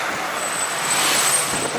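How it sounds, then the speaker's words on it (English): Bus ride through city traffic in Khartoum, Sudan, a continuous broadband road rumble and engine noise with a faint high whine, steady and fairly loud, no voices. "now I'm taking the bus to the city center"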